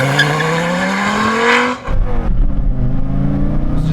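A Dodge Viper launches hard. The engine revs loudly and climbs in pitch with some tire squeal, drops briefly at a gear change, then pulls strongly again, all close and with no talking.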